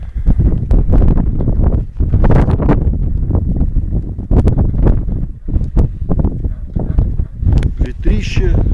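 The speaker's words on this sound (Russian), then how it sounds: "Ветрище" Strong wind on a steep mountain slope at about 2305 metres, roaring continuously in heavy buffeting gusts against the microphone, loud and close, with a person talking through it.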